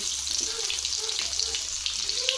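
Cumin, mustard seeds and crushed garlic sizzle in hot oil, a loud, steady, close hiss with faint crackles running throughout, no voices.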